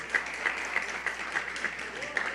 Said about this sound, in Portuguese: Um aplauso para o Fernando Gomes.